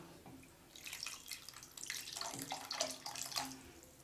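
Water splashes and pours steadily into a cooking pot of mango sambar, a continuous gurgling rush with small surges, close by and with no talking.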